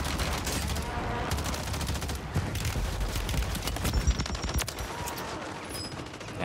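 Rapid video game gunfire rattles almost continuously in bursts during a ranked multiplayer shooter match, loud and dense with overlapping shots, with a voice speaking briefly in the mix.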